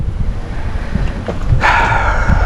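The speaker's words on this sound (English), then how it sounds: "It's really windy out here, so the audio may not be good." Gusts of wind buffet the microphone with a low rumbling roar that grows harsher and louder toward the end.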